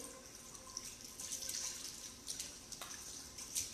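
Water from a tap runs and splashes over feet during Islamic ablution, a soft continuous trickle with small splashy spurts and drips, close and unaccompanied by speech.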